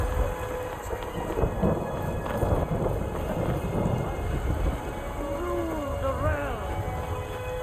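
A thunderstorm in the video game Skyrim, with steady rain and low rumbling thunder rolling throughout, and a brief voice-like tonal sweep near the end.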